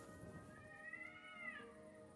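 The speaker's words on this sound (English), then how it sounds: "Why does it sound like cats are having sex out here?" Cats caterwauling in the video game Kingdom Come 2, a faint, drawn-out rising and falling yowl that sits behind a quiet steady background.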